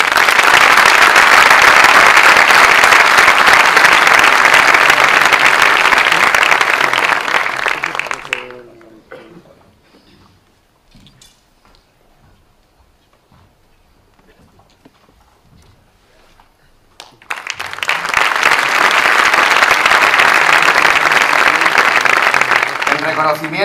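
An audience at a Falange Española commemorative event for Onésimo Redondo bursts into loud applause, which dies away into near silence and then swells back to full, dense clapping.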